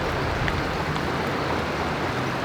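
Steady outdoor rain falls as a dense, even hiss of drops with no breaks, loud and constant and with no voices heard.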